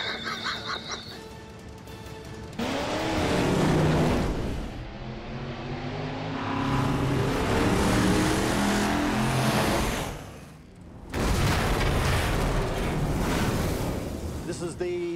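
A powerful twin V8 engine, two V8s locked onto one shaft, roars and revs loudly, rising and falling in long surges with a brief drop near the end before roaring again.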